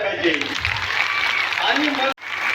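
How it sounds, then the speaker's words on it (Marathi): A crowd applauds loudly at a World Tribal Day gathering in Nashik, a sustained wash of clapping with a voice over it. The clapping cuts off briefly near the end before resuming. "आपण जोरात टाळ्या झाल्या पाहिजे"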